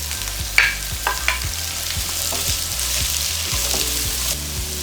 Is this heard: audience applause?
no